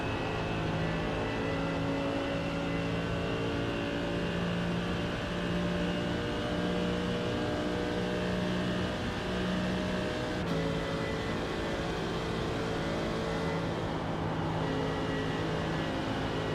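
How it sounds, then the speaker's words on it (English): Race car engines in the iRacing sim game drone continuously at steady pitch, a loud sustained mechanical whine with layered harmonics and no speech. "Can we hear the cars okay?"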